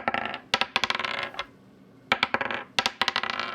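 Dice drop onto a hollow hardwood table, two bursts of sharp clattering bounces that skitter and settle, close and bright, separated by a short quiet gap.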